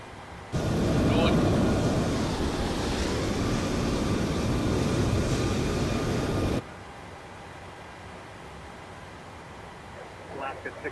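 An Alaska Airlines 737-900 pushback in Microsoft Flight Simulator 2020, a loud broad roar of the aircraft and tug that starts abruptly, holds steady for several seconds, then cuts off to a quiet hum.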